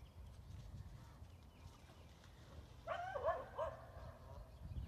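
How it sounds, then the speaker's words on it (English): A dog barks once or twice in the distance, faint against a quiet outdoor background. "Good dog. Good dog, Miley."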